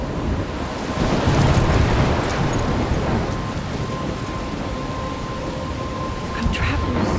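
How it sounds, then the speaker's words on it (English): A storm rages in a horror video game near a lighthouse, with a steady, loud roar of wind and crashing surf filling the whole stretch and brief gusty swells rising over the noise. "I'm trapped in a storm?"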